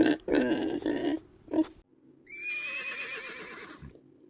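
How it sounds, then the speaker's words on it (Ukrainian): A horse whinnies loudly up close, a shaky high neigh following lower snorting and grunting sounds, with no talking. "Коні"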